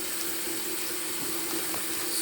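Water runs steadily from a tap into a pot to wash collard greens, a continuous hissing splash that stays close and even, with no talk.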